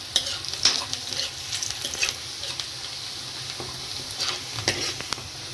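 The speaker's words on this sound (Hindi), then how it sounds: "प्याज को थोड़ा फ्राई करेंगे अच्छे से। प्याज को ऐसे चलाते रहना आएगा।" Onions frying and being stirred in a pan for a Rajasthani aloo mangodi curry, a steady close sizzle with repeated scraping stirs throughout, no talking.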